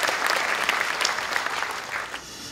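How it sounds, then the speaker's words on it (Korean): A church congregation claps together during a Sunday morning service, a brief burst of continuous, moderately loud applause with no speech over it. "우리 하나님께 감사와 영광의 박수를 드리겠습니다"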